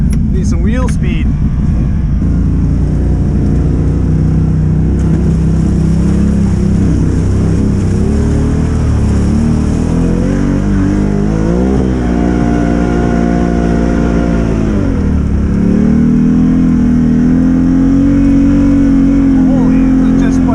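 An off-road vehicle's engine revs hard on a solid sheet of ice at a winter off-road park, droning loudly and continuously with rising and falling pitch as wheel speed climbs, while someone talks over it.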